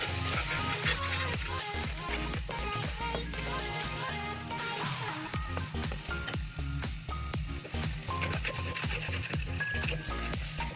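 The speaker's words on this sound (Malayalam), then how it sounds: "പച്ചമുളക് ഇഞ്ചിയും വെളുത്തുള്ളി ആഡ് ചെയ്ത് കൊടുക്കും ഇത് നന്നായിട്ട് വയറ്റിയതിന് ശേഷം റോസ്റ്റ് ചെയ്തെടുക്കും" Ginger, green chili and garlic roasting in a pan for a homestyle prawn fry, a steady dense sizzle running throughout with occasional stirring scrapes, loud and close, no talk.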